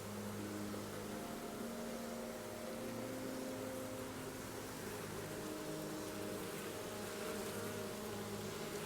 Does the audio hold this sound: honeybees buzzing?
yes